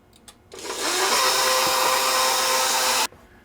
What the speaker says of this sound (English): So I'm starting up my mixer.